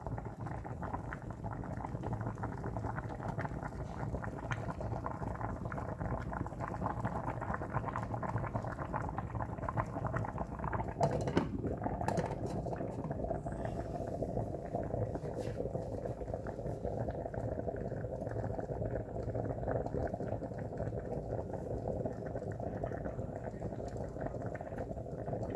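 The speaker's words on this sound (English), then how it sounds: "Just let it boil." A pot of water with rice bubbles at a steady rolling boil, a continuous soft gurgling and popping that stays even throughout.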